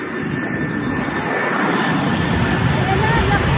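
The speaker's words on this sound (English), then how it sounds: "may malaking airplane na parating guys" A large airplane arrives at LAX airport, its steady engine roar filling the air at close, loud level throughout, with a faint high whine on top.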